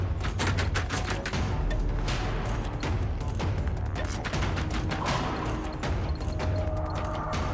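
Rapid, dense pistol gunfire in the video game Generation Zero, a near-continuous loud volley of sharp cracks and impacts filling the whole stretch with no pauses.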